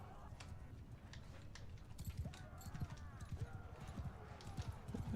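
Horse hooves clip-clop in a rapid galloping rhythm as mounted riders charge during a medieval video game battle, with shouting and voices over the pounding hoofbeats and a brief whinny.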